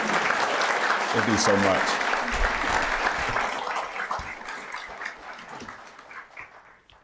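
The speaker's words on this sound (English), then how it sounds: "Another round of applause, please, for the awesome work that they do." Applause from an audience at a town council meeting, a dense wash of clapping that starts loud and gradually thins and fades over several seconds, with a person speaking over it.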